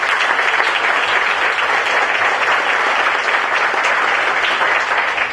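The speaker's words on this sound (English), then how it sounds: "a round of applause for the organizers." A conference crowd at WordCamp Boston gives the organizers a round of applause: loud, dense clapping that stays steady and unbroken from start to finish.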